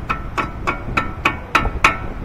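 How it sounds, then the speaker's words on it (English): Hammer taps a cotter pin into the left front CV axle nut of a 2013 Nissan Altima: seven sharp, evenly spaced metallic strikes, close and clear, growing slightly louder toward the end. "Take your hammer."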